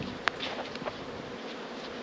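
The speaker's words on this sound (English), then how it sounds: "They have a beehive up there. You can hear the bees." Bees buzz around a beehive in the Bahamas countryside, a faint, steady outdoor hum with one brief sharp click near the start.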